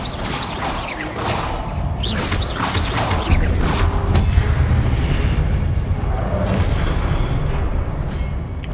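Dense, rumbling Confringo spell blasts from Hogwarts Legacy, loud and continuous, with booming impacts and crashing debris layered into a sustained roar.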